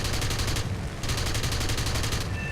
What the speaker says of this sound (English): Those are 20mm cannons coming off my wings.